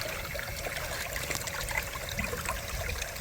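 Water runs steadily from a hose filling a tank outdoors, a continuous close trickling splash with no talk.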